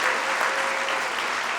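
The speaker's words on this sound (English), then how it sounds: "I want you to give a big round of applause to Melissa Berkeley in the back of the room." Banquet audience claps in a dense, steady burst that fills the room, sustained and fairly loud for under two seconds.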